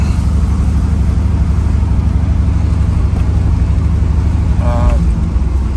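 A car with a newly fitted distributor cap, rotor, ignition coil and ignition module hums steadily on the road during a test drive, a constant loud engine and road drone with a voice briefly speaking over it.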